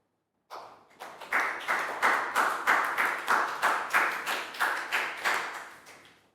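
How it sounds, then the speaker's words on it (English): A small group claps in a steady rhythm of about a dozen even beats, fairly close and lively, with no voices over it. "a big round of applause"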